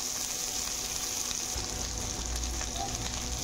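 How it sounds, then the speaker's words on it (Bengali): Potatoes and drumsticks fry in oil in a pan, giving a steady, close hiss and sizzle with a faint stirring shuffle partway through. "ভালো করে মিক্স করে ভেজে নেব লাল লাল করে।"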